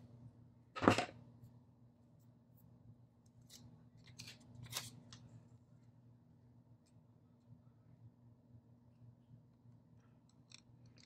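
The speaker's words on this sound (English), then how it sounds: "I'm going to take my scissors and trim this straight" A quiet snip of scissors cutting paper, one crisp cut followed by a softer second snip, close up over a faint steady hum, then near silence.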